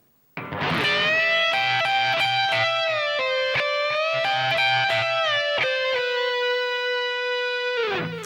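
A distorted electric guitar plays a sustained melodic phrase from a guitar solo, held bent notes ringing with repeated picked attacks, loud and alone, cutting off abruptly at the end.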